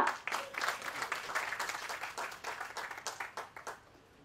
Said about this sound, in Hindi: एक बार इनके लिए जोरदार तालियां बजा दो